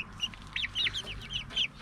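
Several backyard chickens next door cluck and call in short repeated bursts at close range, with no talk over them.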